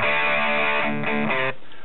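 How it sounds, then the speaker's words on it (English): An electric guitar runs through the Le Poulin VST amp plugin with heavy distortion, playing a few sustained, buzzy chords that stop abruptly at the end. "So if you want to suddenly get plenty of distortion on that,"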